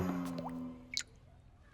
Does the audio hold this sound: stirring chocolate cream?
no